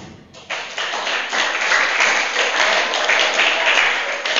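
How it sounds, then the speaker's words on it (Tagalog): A church congregation claps in praise to the Lord during a sermon, a dense, loud wash of hands that starts abruptly after a short pause and holds steady to the end. "And clap of praise to the Lord."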